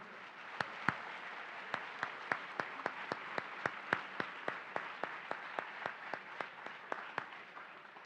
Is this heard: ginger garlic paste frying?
no